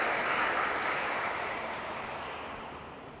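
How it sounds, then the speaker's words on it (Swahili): Audience clapping at a women's seminar, a dense wash of many hands that gradually fades over a few seconds, heard alone without speech. "Naomba mwapigie hawa makofi kwa kuwahifadhi hai."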